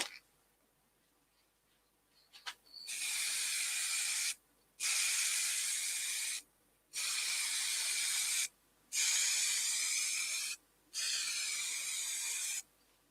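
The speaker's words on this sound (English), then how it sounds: "we're going to finish this with some melamine gloss lacquer" Melamine gloss lacquer is sprayed in five long hissing bursts, each a few seconds long and separated by short silent pauses, loud and close after a few faint clicks at the start.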